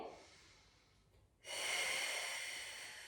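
A steady breath drawn in during a gentle core stability exercise, starting quietly then turning into a loud, close, airy inhale that holds for over a second.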